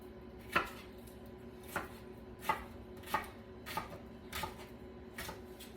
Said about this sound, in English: we need to add our carrots, celery, onion, and garlic. So let's get that all chopped up and in the pot.